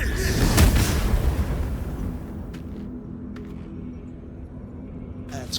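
A deep explosion from a lit fuse in the video game Baldur's Gate 3, a heavy boom at the start that rumbles and fades over several seconds, with no talk.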